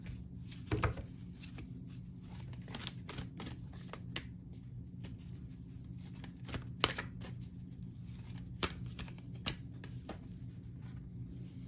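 An oracle card deck, Language of Light, is shuffled by hand and a single card drawn, giving soft papery riffles and flicks with a few sharper snaps, steady and close over a low background hum.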